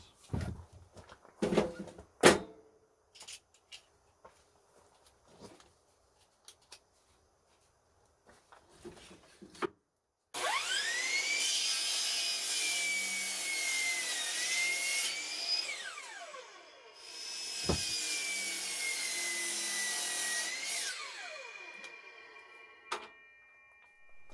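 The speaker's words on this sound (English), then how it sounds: "I'm going to trim this stuff down just a little bit so it'll all fit perfectly inside my wood box." Old 2x4 wood pieces are trimmed for a firewood storage box. Scattered knocks and handling clatter come first, then a power saw whines loudly through the wood in two long passes, close up.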